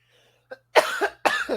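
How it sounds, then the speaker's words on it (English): A single short cough, then two louder, harsh coughs in quick succession, close to the microphone in a quiet room. "I keep coughing"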